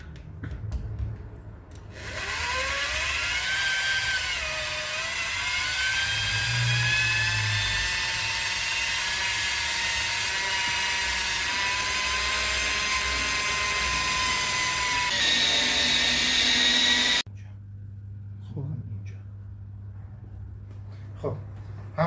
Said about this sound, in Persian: بعد از دستگاه پولیش استفاده کردیم